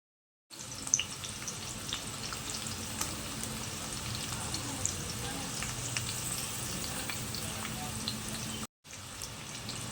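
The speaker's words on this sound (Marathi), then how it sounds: "आता आहे ना आपण कांदा परतवून घेऊया" Onions frying in hot oil with cardamom and cloves while cooking mutton for an Agri-Koli wedding, a steady, dense sizzle running close and continuous, broken once by a brief gap near the end.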